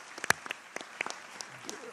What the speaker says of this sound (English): So please join me in a round of applause for our translators.